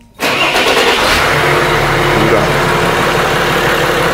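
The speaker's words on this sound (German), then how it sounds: "So, jetzt starte ich den Motor." A Mercedes S-Class 320 CDI diesel cranks and fires up close by after the rebuild, catching at once and settling into a loud, steady idle that runs on without a break.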